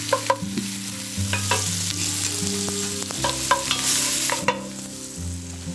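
Onion and bacon frying in hot schmaltz in a pan over a fire, a steady sizzle broken by several sharp clatters of stirring and scraping, close and fairly loud, with a low steady hum underneath and no voices.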